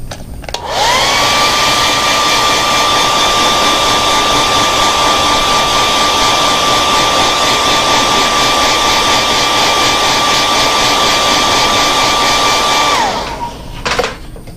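A heat gun runs steadily for about twelve seconds to heat-set a fly tying pattern, a field mouse imitation, giving a loud, close, continuous blowing whine that starts abruptly and cuts off near the end.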